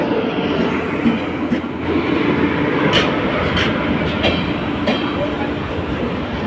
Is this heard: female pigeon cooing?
no